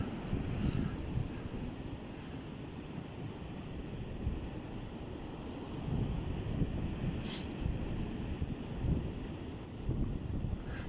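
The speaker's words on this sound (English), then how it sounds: "It's almost like that wind's gone west" Winter wind blows at South Shields pier, gusting and buffeting steadily against the microphone in a continuous low roar, with faint surf in the background.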